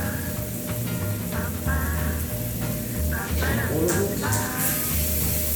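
Butter and onion sizzling in a hot pan, a steady frying hiss running throughout beneath a voice speaking close by.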